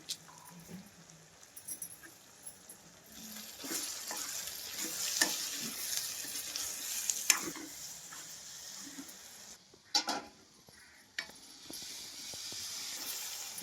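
Onions frying in a pan with salt and turmeric hiss and crackle quietly, punctuated by a spatula scraping and stirring the mixture at intervals, close but low in level.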